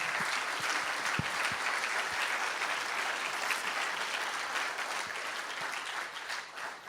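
A church congregation applauds during a Sunday sermon, a sustained, even wash of many hands clapping at a moderate distance, with no voices standing out.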